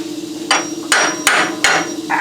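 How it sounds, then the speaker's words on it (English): Four sharp hammer blows strike a car frame during crossmember and frame repair work on a VW diesel-powered Spitfire, evenly spaced, loud and close, with no talking. "I hammered my knuckle against the frame"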